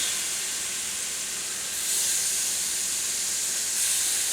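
Blackened shrimp for tacos cook in a hot pan, making a loud, continuous sizzling hiss that swells slightly partway through, with no talking.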